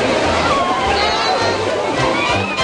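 Breakwater waves in a wave pool at Amana Water Park slosh and splash loudly and continuously under a crowd's babble and nearby voices.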